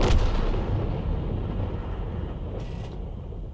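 In World of Tanks, an Object 261 self-propelled artillery gun fires a single booming round, a heavy blast at the start that rolls into a long rumbling decay.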